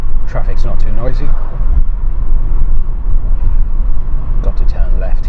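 Continuous low road rumble and engine drone from inside a moving car, with a person talking over it at the start and end.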